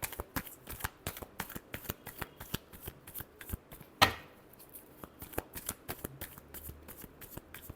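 A deck of cards is riffle-shuffled over and over in quick, crisp bursts during a tarot-style reading, with one sharper snap midway, close and alone with no talk.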